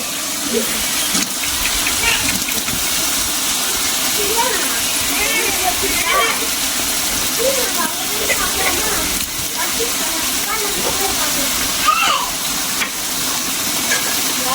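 Tomatoes frying with ginger garlic paste in a pan, a continuous close sizzle with stirring scrapes and bursts of steam, while a person talks over it.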